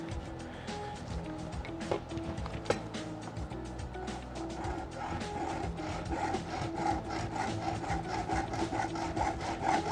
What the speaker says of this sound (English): I'm gonna take my hacksaw.